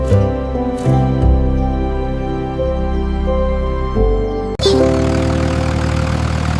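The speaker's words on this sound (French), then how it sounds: "Le rugissement du petit tracteur était fort." Small tractor engine running with a steady, loud mechanical drone and layered harmonic hum, shifting pitch slightly midway and then growing rougher and louder for the final stretch, heard alone without talk.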